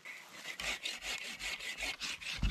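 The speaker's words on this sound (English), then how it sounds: "sawing down this whole tree" Steady back-and-forth sawing through a tree in a video game, about a dozen rhythmic rasping strokes, close and fairly quiet, with no voices.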